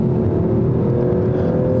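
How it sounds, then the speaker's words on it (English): Steady road noise fills the cabin of a 2020 Audi S4 sedan driving on a rough road surface, a continuous low rumble and tire roar with a faint engine hum, no talking. "There's a lot of road noise coming in here, but like the road surface isn't the best."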